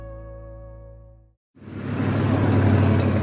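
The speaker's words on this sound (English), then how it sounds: "That's the sound of rush hour." Steady road traffic rumbles loudly after a brief silence, a dense wash of passing cars and engines close by.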